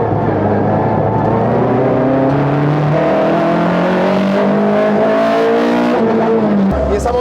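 A 1.6-litre naturally aspirated Skoda Felicia Kit Car rally car, rated at 170 horsepower, revs hard and loud from the cabin, its engine pitch climbing steadily before cutting sharply near the end.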